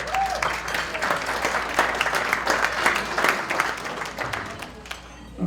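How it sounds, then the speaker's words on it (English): Sustained audience applause fills an awards ceremony hall, dense steady clapping from a crowd continuing for several seconds without pause. "George, you're not holding the applause very well"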